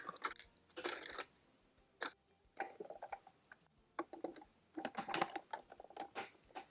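Graham cracker sheets are snapped into pieces over a food processor, a series of crisp, close cracks and crunches in irregular bursts with short quiet gaps between them.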